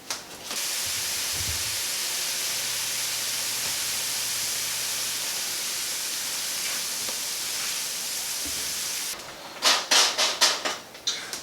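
Onions and garlic sweating in butter over medium-low heat in a cast iron skillet, giving a steady soft hiss. A few sharp clinks and scrapes come near the end.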